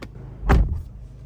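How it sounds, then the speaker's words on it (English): The driver's door of a 2024 Acura Integra Type S shuts from inside the cabin, one solid, close thud with a brief latch click, then quiet interior hush. "so close the door"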